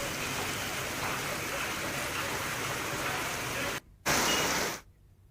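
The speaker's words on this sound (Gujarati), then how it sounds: "ટંકારામાં અનરાધાર વરસાદ વરસી રહ્યો છે।" Heavy rain pours down in Tankara, Gujarat, as a dense, steady wash of hiss that briefly cuts out and then stops near the end.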